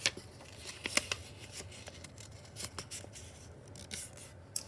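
Scissors snip through a paper circle in short, crisp cuts with soft rustles between them, close by and fairly quiet.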